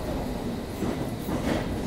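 A fairly empty train runs steadily, with a continuous dense rumble and rattle of wheels on track heard from inside the carriage and no voices.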